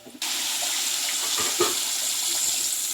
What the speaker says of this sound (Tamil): இப்போ நம்ம வந்து புளி தண்ணியை சேர்த்துக்கலாம்